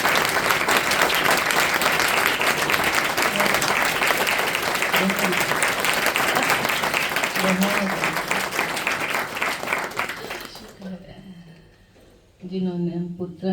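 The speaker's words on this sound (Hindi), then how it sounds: "एक बार उनके लिए बहुत जोरदार तालियां" Loud, sustained applause from a large audience at a devotional Republic Day gathering, dense clapping for about ten seconds before it fades, then a voice speaks.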